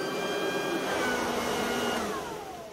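A Parkside 2600W leaf blower vacuum shredder runs outdoors on a terrace, giving a steady loud motor whine and rushing airflow that winds down slightly at the end, with no talking.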